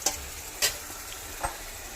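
Marinated chicken pieces for a Bengali kosha chicken curry cook in a pan, with a soft steady sizzle and three short scraping stirs spaced through the moment, close and fairly quiet with no talking.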